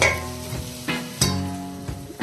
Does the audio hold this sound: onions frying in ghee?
yes